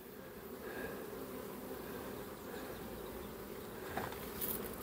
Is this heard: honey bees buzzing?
yes